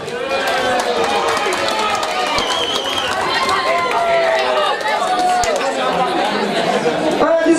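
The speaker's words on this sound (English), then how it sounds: "Blake Hall makes some noise for Zoltan Titan" A boxing crowd roars and chatters steadily throughout, a dense, loud wash of voices and cheering at a fight night, with no clear breaks.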